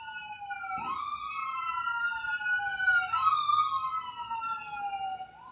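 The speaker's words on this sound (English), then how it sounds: "when you hear an ambulance, the ambulance driver simply does not want to wait at the traffic light" An ambulance siren outside wails up and down in repeating sweeps. It stays moderately loud and plays alone, with no talk over it.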